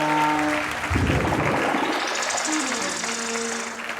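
An audience at a children's awards ceremony applauds in a continuous broad wash, with tonal hum and a rising whine running underneath.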